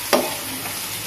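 Egg being stirred into capsicum curry in a hot pan, with a steady low sizzle and two brief scraping strokes of the spoon near the start and end.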